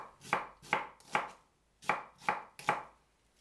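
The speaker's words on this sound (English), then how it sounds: "One carrot in julienne. 1 onion into chunks." A knife chops carrot and onion on a cutting board in six sharp, close strokes, three, a short pause, then three more, with no talking.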